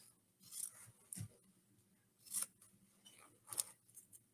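Scissors cut out paper pattern pieces in four or five separate crisp snips spaced across a quiet room, close and clear, with no talking.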